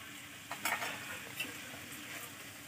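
A spoon scrapes and stirs banana flower and shrimp curry with ghee and garam masala in a pan, giving a few short scraping strokes over a soft, quiet sizzle.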